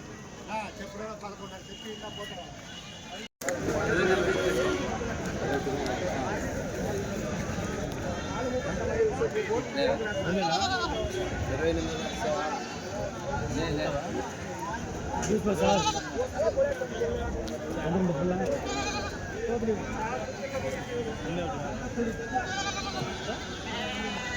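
Many goats bleating amid a busy crowd at a weekly livestock market in Kadiri, with constant overlapping chatter and calls from people nearby and scattered animal cries throughout.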